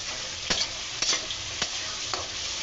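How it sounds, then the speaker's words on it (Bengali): A spoon stirs spices frying in oil for a tilapia curry, giving a steady close sizzle with several distinct scraping stirs spaced about half a second apart. "এইটা মশলা কষানোর পর দেখেন কি সুন্দর তেল চলে আসছে"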